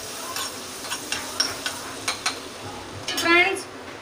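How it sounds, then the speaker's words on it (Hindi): Whole red chillies fry in butter in a pan, with a soft sizzle under a series of light taps and scrapes from a stirring spoon, close by. "फ्रेंड्स मक्खन में मिर्च फ्राई हो चुकी है।"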